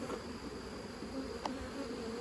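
Honey bees swarm around an open hive during a colony split, a close, steady buzzing hum with a slight waver and a brief tick partway through.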